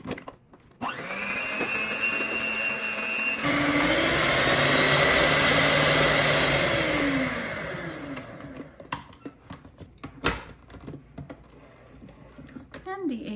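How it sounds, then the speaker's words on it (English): An electric mixer loudly whirs as it beats eggs with sugar until fluffy for a cake batter, a steady drone lasting several seconds before stopping, followed by quieter kitchen clatter. "Into the eggs, I'm going to add the sugar. And I'm going to beat this until it's totally fluffy."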